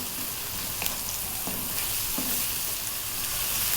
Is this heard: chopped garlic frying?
yes